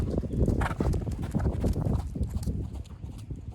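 Horse hooves clip-clopping on the lunge during a riding lesson, a steady, moderately close rhythmic beat of footfalls over soft ground noise.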